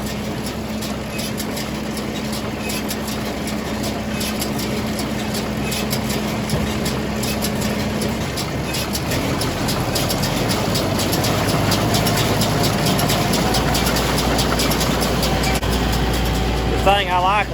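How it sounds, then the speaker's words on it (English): A New Idea 483 round baler runs behind a tractor with a steady mechanical clatter and drone. The engine note rises partway through as the revs build, and the noise continues loud and continuous to the end. "We'll shut the tailgate and rev it up and let it run a little while"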